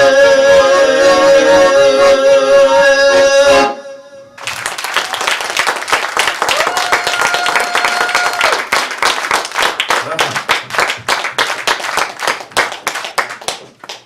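A concert audience claps after music ends, warm sustained applause that starts crisp and loud, then thins into scattered hand claps toward the end.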